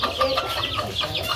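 Chicken clucking close by in a short run of quick, repeated clucks, loud and clear with no voices over it.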